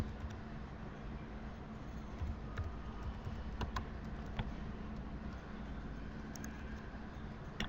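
Typing on a computer keyboard, with soft, scattered key clicks over a steady background hiss and no speech.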